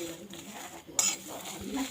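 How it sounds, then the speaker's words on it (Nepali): Garlic, dried chilli, sesame seeds and peanuts fry for a pickle, a close sizzle under the scrape of a stirring utensil against the pan, with a sharper clatter midway. "अचारको लागि मैले चाहिँ फ्राई गर्दैछु"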